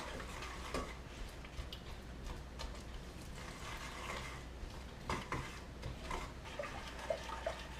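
Spoon scraping and stirring in a pan of melting butter and brown sugar for flapjack, giving a steady soft clatter with occasional small taps against the metal, continuous and close, with no talking.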